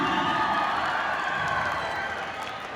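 An audience at a national wushu and kung fu championship in Quetta applauds and cheers after a performance, a sustained wash of clapping with whoops and shouts from a large crowd.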